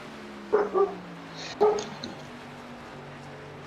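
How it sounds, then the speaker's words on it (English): A dog barks outdoors in two short bursts of a few sharp barks each, moderately close, over a steady low hum from a racing broadcast in the background. "My dog is angry about something outside"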